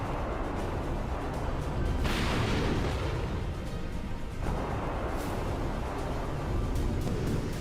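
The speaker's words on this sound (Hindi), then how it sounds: "कीव की सुरक्षा में तैनात एयर डिफेंस से मिसाइलों की फायरिंग शुरू हो गई।" A loud, continuous roaring rush with heavy booming surges as air defense missiles launch nearby over Kyiv, dense and sustained throughout.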